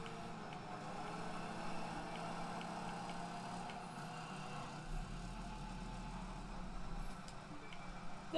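Several car engines drone together in The Crew 2 racing game, a dense steady rumble of many vehicles with no single car standing out, continuous and fairly loud throughout.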